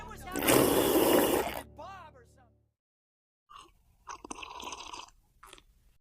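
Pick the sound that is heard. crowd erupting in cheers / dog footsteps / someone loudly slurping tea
someone loudly slurping tea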